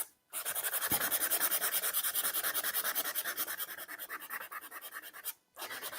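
Sandpaper rubbing back Ivory Lacquer on a wooden surface, a steady rapid scratchy rasp of quick back-and-forth strokes, close and fairly quiet, stopping briefly near the end before resuming.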